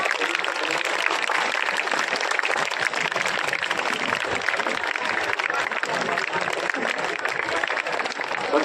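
Continuous applause from a school gathering, a dense, steady wash of clapping from many hands that holds at an even level throughout without a break.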